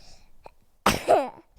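A child sneezes once, close and loud: a faint breath catches in first, then a sharp burst ends in a short voiced tail.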